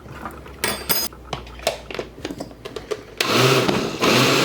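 A kitchen blender blends a vegan sauce, with light clatter and knocks before the motor cuts in with a loud, dense whir for the final second or so.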